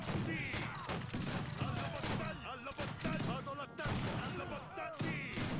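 Musket volleys in the Age of Empires 3 strategy game, Wars of Liberty mod, rattle continuously as dense crackling fusillades under a man's speech and game sounds.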